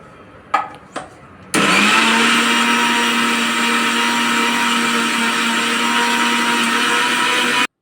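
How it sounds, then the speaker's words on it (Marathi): A kitchen mixer grinder blends ginger, beetroot and amla with water into a paste, kicking in loud and steady after a couple of brief knocks and running with a constant whirring drone to the end. "याला आता आपल्याला छान मिक्सरमध्ये वाटून घ्यायचं आहे"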